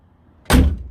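A VW T4 van door, just reassembled after a handle repair, swings shut with a single loud, close thump that rings briefly and fades, with no talk.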